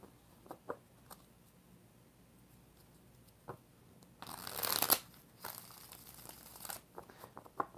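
Tarot cards being shuffled by hand, a few brisk riffling bursts with quieter rustles and taps between, close and alone.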